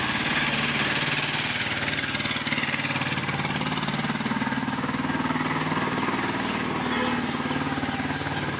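Model railway engines labour up a steep hill on a model layout, a steady buzzing motor drone with a rhythmic mechanical pulse, continuous and fairly close, with no talk.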